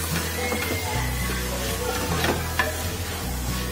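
Turmeric and red chilli powder being stirred into a veg biryani base in a pan, a steady faint scraping and sizzling texture running throughout with occasional soft clinks.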